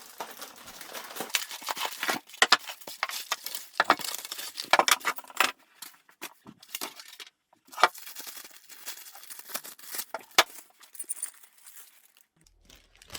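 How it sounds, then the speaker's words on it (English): Plastic bags crinkle and tear as overhead camera platform parts are unpacked from them, with irregular close rustling bursts and brief clinks of small parts, no talking. "taking them out of their plastic bags"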